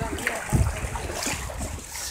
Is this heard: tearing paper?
no